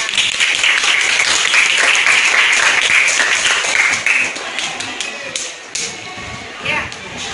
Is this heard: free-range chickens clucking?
no